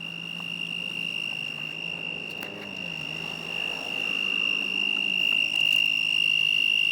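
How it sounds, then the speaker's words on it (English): Loud, continuous insect-like trilling, a frog or grasshopper in a Central Texas suburban neighborhood near a four-way stop, holding steady and close with no talk over it. "That is one loud frog."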